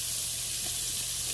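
Pork chops sizzle steadily in a frying pan, a dense continuous hiss close up and fairly loud, with no voices.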